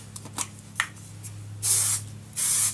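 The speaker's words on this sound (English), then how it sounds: "give it a shot of hairspray" Hairspray hisses onto hair in two sustained bursts, each about a quarter second long, loud and close, after some soft handling noises over a faint hum.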